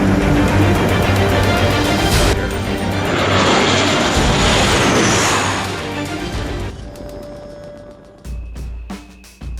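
A South Korean FA-50 Fighting Eagle light combat jet roars loudly and close, its engine noise swelling and sweeping past before fading. Several sharp clanks and thuds follow near the end.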